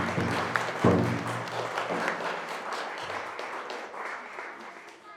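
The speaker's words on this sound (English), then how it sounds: "Can we get a round of applause for our Blue House Singers?" Audience applause for the Blue House Singers at a No More Stolen Sisters gathering, a broad steady wash of clapping over the whole stretch with low sustained tones beneath, gradually thinning toward the end.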